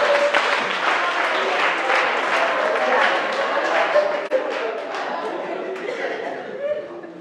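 Church congregation applauding and cheering in acclamation of Jesus, a dense sustained wash of clapping and crowd voices that slowly fades, with chatter mixed in.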